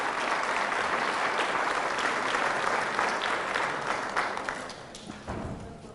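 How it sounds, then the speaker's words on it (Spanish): A church congregation at a Catholic inner-healing mass led by a priest breaks into strong, dense applause that holds steady for several seconds, then thins slightly toward the end. "Fuertes aplausos a la palabra de nuestro Señor y Salvador Jesucristo"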